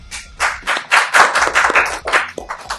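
An audience claps together as an award is presented on a talk show. The applause is loud and close, with dense bursts of hand claps that rise and fade in uneven waves over a few seconds.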